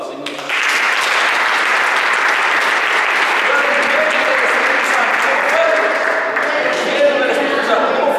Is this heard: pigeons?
no